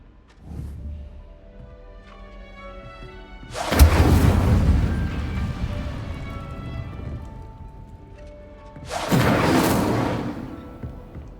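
Incendio fire spell cast in Hogwarts Legacy: two loud, close whooshing fire bursts about five seconds apart, each flaring and then trailing off over a quiet ambient background.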